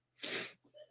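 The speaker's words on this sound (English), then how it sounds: "I feel like I gotta sneeze" A single close, sharp sneeze bursts out, followed by a soft murmur of voice.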